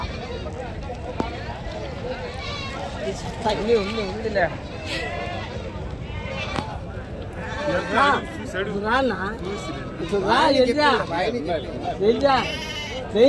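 Many sheep bleat repeatedly and overlap at a busy outdoor livestock market in Angallu, with people talking in the background throughout.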